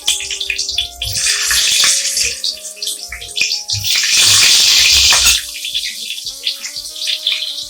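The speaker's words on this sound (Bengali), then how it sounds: "তেলটা গরম হয়ে গেছে, এবার একটা একটা করে আলু ছেড়ে দিচ্ছি তেলের মধ্যে।" Potato pieces are dropped one by one into hot oil for aloo bedana, each set off by loud bursts of hissing sizzle that swell and fade over steady frying.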